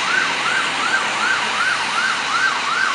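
Siren wailing from a Ford Econoline E-150 ambulance responding in Montreal, a steady repeating up-and-down sweep, about one cycle every 0.4 seconds, loud and continuous over road noise.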